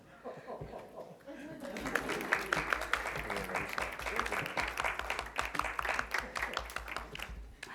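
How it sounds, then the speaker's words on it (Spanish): Applause from a seated audience at a literary conference session on 1922 modernism, a soft spoken line first, then clapping swelling in after a second or two and continuing steadily at moderate volume with scattered laughter. "Va un aplauso para Dignan, que viene recién salido de la tumba y con su cerveza todavía."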